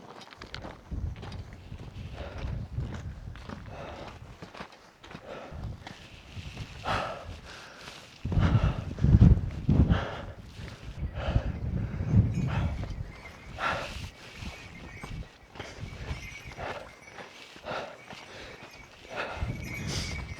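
Horses walk along a high-altitude Everest hiking trail, their hooves clopping in an irregular, moderately close rhythm, with a louder stretch of hoofbeats and shuffling in the middle.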